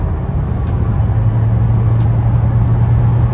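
An SUV driving along a busy road, heard from inside as a loud, steady engine and road rumble with a constant low hum and no talking.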